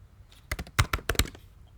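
A short run of about eight crisp keystrokes taps on a computer keyboard, close and distinct, in an uneven rhythm lasting around a second.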